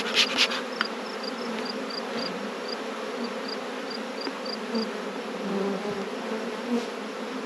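Honey bees buzz steadily around an outdoor hive box, a dense, continuous drone close by with faint individual bees passing, and no talking.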